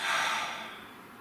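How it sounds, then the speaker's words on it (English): A single slow, deep breath, breathy and soft, close and alone, fading gradually over about a second in a calm meditative setting. "Nice deep breath."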